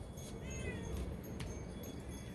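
A kitten meows a few thin, high cries early on over a steady, noisy background. The kitten has come out to eat, and no one speaks.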